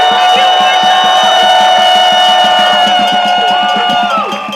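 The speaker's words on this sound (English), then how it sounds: "could we give a huge round of applause for all our marshals who go on the streets" Large rally crowd in Minneapolis cheering and shouting loudly, a dense sustained roar with rhythmic clapping underneath, close and continuous throughout, easing slightly at the very end.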